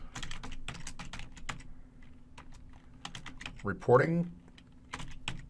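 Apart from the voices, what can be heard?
typing a command on a computer keyboard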